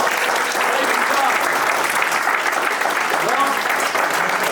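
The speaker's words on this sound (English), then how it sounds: "Give yourself a round of applause, guys." Sustained applause from the audience at the close of the first day of a roofing company's Mastermind meeting, a steady dense wash of clapping throughout with faint voices and whoops mixed in.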